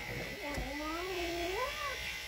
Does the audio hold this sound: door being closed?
no